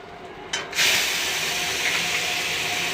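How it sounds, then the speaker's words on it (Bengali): Fish pieces dropped one at a time into hot oil, setting off a sudden loud sputtering sizzle that swells and then settles into a steady close hiss. "তেলটা পুড়ে যাচ্ছে না, মাছগুলো একটা করে দিয়ে দিই"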